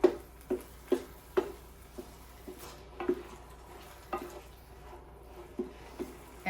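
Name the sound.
stirring fried rice with fennel in a pan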